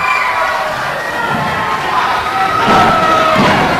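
Crowd at an NWF wrestling show in Florence, Kentucky, cheering and shouting steadily and loudly throughout, with children's voices and a few thuds from the ring rising near the end.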